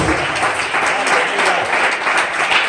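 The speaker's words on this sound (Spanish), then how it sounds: "Denle ese aplauso a Jesucristo." A church congregation applauds during a worship service, sustained, dense clapping close and loud for the whole stretch, with no speech over it.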